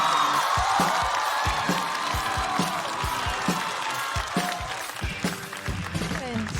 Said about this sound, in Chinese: 我们掌声欢迎黄一锦。